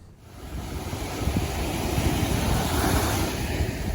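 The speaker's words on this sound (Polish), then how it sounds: "Szum morza i zachody słońca na polskim wybrzeżu są bezcenne i kuszą wielu turystów." Sea surf on the Polish coast rolls in as a broad, steady wash of noise with wind buffeting the microphone, building after the first second and staying loud without a break.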